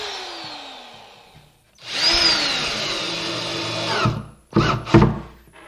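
Power drill driving #8 by 1-1/4 inch screws into a wooden joint of a wall storage cabinet in a workshop: a steady whirring run of about two seconds that rises in pitch, then two short bursts, close and loud, with no talking.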